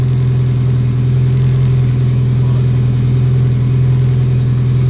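A turbocharged Honda Civic engine idles while warming up, a loud, steady, close-up low hum and drone that holds unchanged throughout with no revving.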